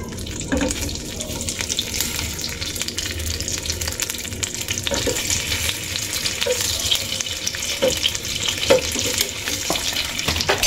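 Sliced samgyupsal pork fries in a pan with a steady, crackling sizzle, broken by occasional clicks and scrapes of a utensil against the pan.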